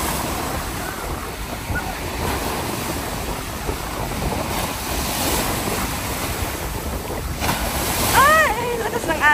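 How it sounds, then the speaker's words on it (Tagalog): Strong ocean surf crashing onto a beach in Antalya, a continuous loud roar of breaking waves with wind buffeting the microphone, building slightly toward the end. "Ay, lakas ng alon."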